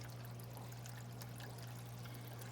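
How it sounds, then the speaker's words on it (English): Water from a fish tank siphons up a tube and through a hose into a bucket. It makes a faint, steady trickle and pour beneath a constant low electrical hum. "The water goes up the tube, up the hose, and down into the bucket."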